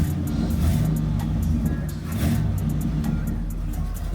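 Oldsmobile Delta 88 V8 on a new dual exhaust, idling loud and close with a rough, throbbing rumble and a slight grind, swelling in brief revs throughout.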